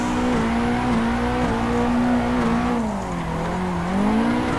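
A Nissan 180SX drifting in the Assetto Corsa racing game with heavy foot braking: a loud, continuous engine drone that rises and dips slightly in pitch throughout, with no talking.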